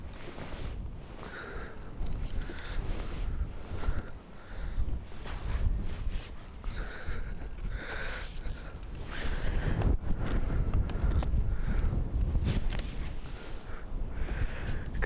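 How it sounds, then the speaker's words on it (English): Wind gusting across an open fishing lake, a steady broadband rush that swells and buffets the microphone continuously, loud and close with no voices. "You can see wind's blowing everything around a little bit"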